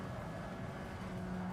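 A steady, droning hybrid race car engine in Gran Turismo 7, with a thin electric whine, holding an even pitch, close and moderately loud.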